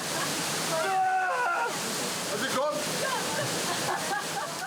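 A waterfall at Mount Inunaki in Japan, doubled in size by a typhoon, gives a constant loud rushing roar that fills the whole stretch, with voices briefly speaking and calling over it.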